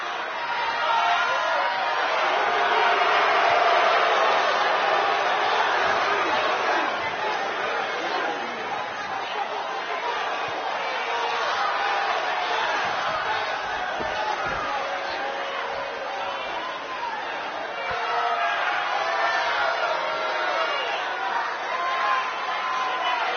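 Crowd noise fills a wrestling video game arena, a steady broad roar and chatter of spectators that stays loud and continuous throughout, with commentary voices over it.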